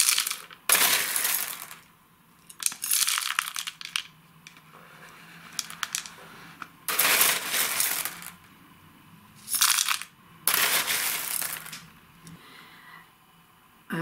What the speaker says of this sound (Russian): Насыпаю керамзит.